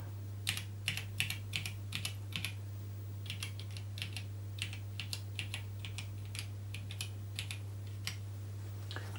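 Keys tapped on a Thomson TO9 computer keyboard while testing it under Basic 128: quiet, irregular clusters of sharp clicks over a steady low electrical hum.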